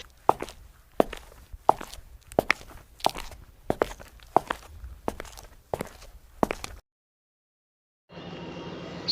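Footsteps crunch across a rooftop in a horror cartoon, about ten slow, evenly spaced steps, fairly close. A short silence follows, then a low steady noise begins.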